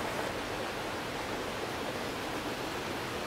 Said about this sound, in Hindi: ये जगह बिल्कुल ही अलग थलग सब्ज़े से भरी है, जहाँ सिर्फ पानी के गुजरने का शोर है।